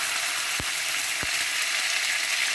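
Ghee sizzling in a hot pan, a dense, steady crackle throughout with two sharp knocks of a utensil against the pan.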